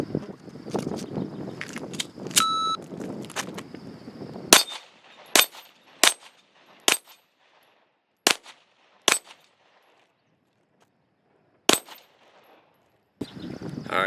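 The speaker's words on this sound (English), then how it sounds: "PPQ. Give it a shot on the plate rack." Walther PPQ pistol shots ring out on a steel plate rack: about eight sharp, evenly spaced cracks, each followed by a metallic clang, after a brief stretch of rustling and handling.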